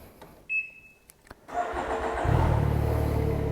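A 2021 Can-Am Ryker 900 three-wheel motorcycle starts up after a few faint clicks, its engine catching and settling into a steady, close idle rumble with no talking.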